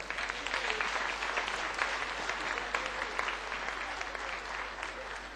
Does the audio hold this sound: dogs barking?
no